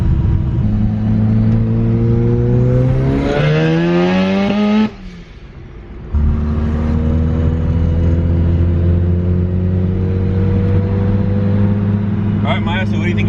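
A Mazda RX-7 sports car engine revs hard and climbs in pitch under full acceleration in second gear, briefly dropping at a gear change before pulling again, loud and close.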